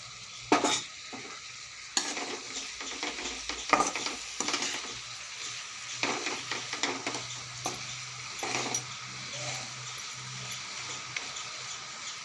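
Masala spices for an egg roast, including chili powder, coriander powder, pepper powder and garam masala, sizzle in a hot pan while a spoon stirs and scrapes them in repeated bursts over a steady background fry, with no voices.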